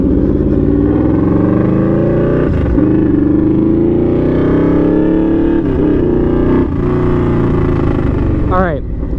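A Yamaha V-Max motorcycle engine drones loudly and steadily while riding, its pitch rising and falling gently as it holds speed, with wind rushing across the mic.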